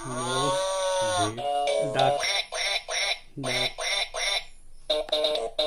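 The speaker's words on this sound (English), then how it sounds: "Duck." A squeaky toy duck sound from a musical drum keyboard toy quacks repeatedly in short bursts, loud and close, with a brief pause partway through.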